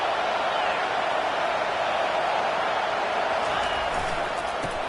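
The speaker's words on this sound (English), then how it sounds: "This crowd knows when to bring it." A stadium crowd at a college football game keeps up a sustained roar of cheering and noise, steady and fairly loud throughout with no clear breaks.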